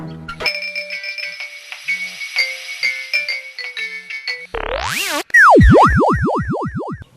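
A phone ringtone plays a repeating electronic melody, then breaks into warbling, sweeping synthetic tones that bounce rapidly up and down near the end.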